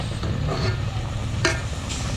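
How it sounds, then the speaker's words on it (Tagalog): Milkfish adobo simmers and sizzles steadily in a pan, with gentle bubbling and a light clink partway through. "Ayan, kumukulo-kulo na yung ating adobong bangus."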